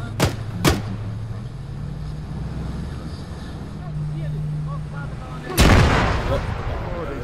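Gunshots ring out in the military shooter Arma: two sharp, close reports in quick succession at the start, then a louder blast several seconds later over a steady low engine-like drone.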